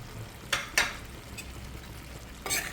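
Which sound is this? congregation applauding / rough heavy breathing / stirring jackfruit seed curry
stirring jackfruit seed curry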